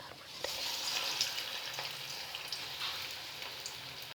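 Paneer and banana bonda balls deep-frying in hot oil, a steady bright sizzle with scattered crackles and pops running close and unbroken throughout, no voices.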